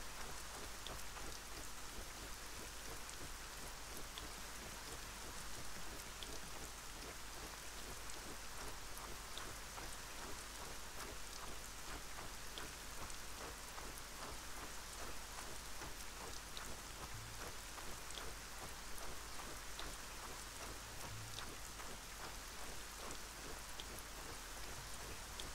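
Steady, even rainfall in the video game Arcania Gothic 4 hisses on without a break, a dense wash of drops with faint low rumbles underneath. No voices are heard.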